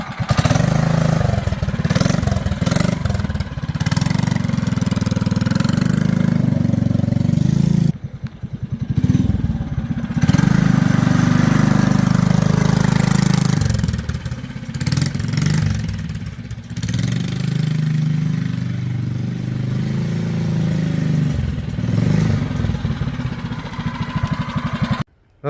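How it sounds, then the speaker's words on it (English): Motorcycle engine running close by, a loud rough idle with uneven throttle blips and brief dips, continuing for about 25 seconds with no talking. "the other bike Zoe doesn't ride"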